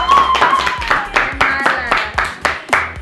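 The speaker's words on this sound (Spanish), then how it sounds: "¡Aplausos! ¡Aplausos!" Rhythmic, sharp hand claps from a small group greet performers being introduced on a show, about ten distinct beats close by, with voices mingled among them.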